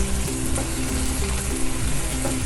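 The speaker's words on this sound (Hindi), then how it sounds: "तो अब आपने इसको भी अच्छी तरीके से मिक्स करना है और इसको भी 2 से 3 मिनट तक पकाना है।" A crushed dry coriander mixture for roasted eggplant bharta cooks in a pan, a dense, close, continuous frying sizzle with steady stirring scrapes running through it.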